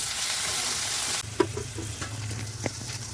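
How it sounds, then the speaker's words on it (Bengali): A bright hiss dies back sharply as chopped tomato lands in a pan of chicken kosha masala, then soft sizzling continues under a few distinct scrapes and knocks from stirring. "এবার দিয়ে দেব টমেটো কুচি। দিয়ে ভালোভাবে নাড়াচাড়া করে নেব।"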